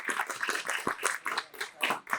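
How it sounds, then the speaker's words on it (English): Applause for a guest at an outdoor music festival at the Levitt Pavilion in Dayton: a steady spatter of many hands clapping in irregular bursts, moderately loud and fairly close. "Everybody give her a round of applause."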